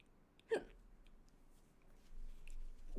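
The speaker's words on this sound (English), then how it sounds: "Got the hiccups" A single hiccup from a player during a tabletop Vampire: The Masquerade game session, one short sharp burst standing out against a quiet room, with faint murmuring afterward.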